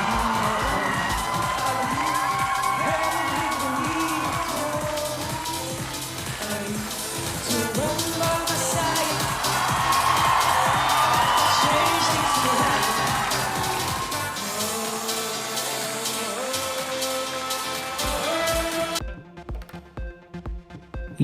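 Thousands of people at an inauguration in Hungary clapping and cheering: a loud, sustained roar of crowd noise with a steady clapping texture, easing off toward the end before a short burst of other sound cuts in.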